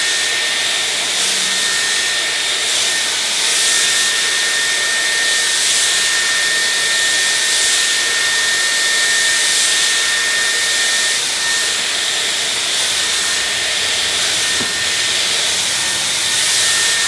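A Dyson Airwrap Smooth + Control styler blows air through short curly hair with a loud, continuous whooshing hiss and a faint steady whine, heard close up and alone for the whole stretch.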